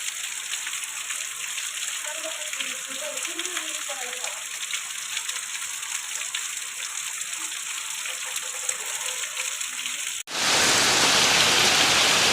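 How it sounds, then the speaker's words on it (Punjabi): Heavy rain pours down in the mountains, a steady dense hiss throughout, then a sudden much louder roar of rushing water or downpour at the end. "ਬਹੁਤ ਜ਼ੋਰ ਤੋਂ ਮੀਂਹ ਲੱਗਿਆ ਹੈ"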